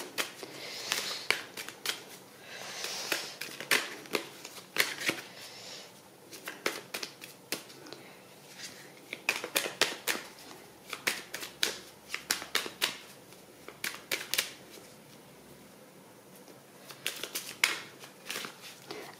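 Tarot cards are shuffled by hand in irregular bursts of crisp slapping and riffling clicks, moderately close and fairly quiet, with no talking.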